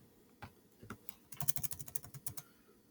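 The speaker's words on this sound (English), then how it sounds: "You go here and you type in rule" Fingers typing on a computer keyboard, a few scattered keystrokes followed by a quick, fairly quiet burst of rapid clicking, close and without talk.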